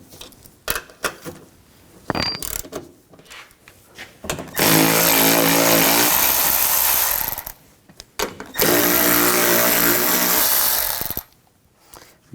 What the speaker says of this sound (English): Using a 13mm socket, we're going to take these nuts off